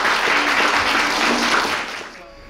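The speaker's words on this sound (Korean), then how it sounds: "다시 한번 뜨거운 박수 한번 보내주시면" Warm applause from wedding guests at a cheerleader's December wedding ceremony, a sustained round of clapping that holds steady and then fades toward the end.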